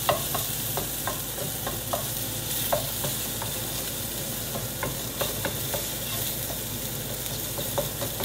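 Shrimp for tacos cook in a hot pan, giving a continuous dense sizzle punctuated by repeated quick taps and scrapes from stirring, close and fairly loud throughout.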